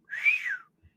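A single short human whistle imitating a whistling gnome rises and then falls in pitch over about half a second, clear and close, followed by a faint soft thump.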